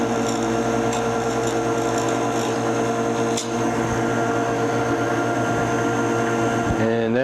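A wood blank spins on a lathe while a rounded, pre-sharpened chisel edge cuts it down, giving a continuous loud motor hum with a steady scraping tone and no break throughout.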